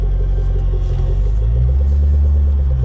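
A 2022 Jaguar F-PACE SVR on a winding road gives a loud, deep engine and exhaust rumble heard from inside the cabin, the note swelling as it accelerates, with no voices.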